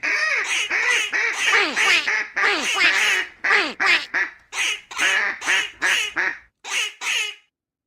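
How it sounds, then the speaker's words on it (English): A chorus of ducks quacks a Happy Birthday tune, with loud, close honking quacks in rhythmic bursts that grow more spaced toward the end. "that was happy birthday in duck"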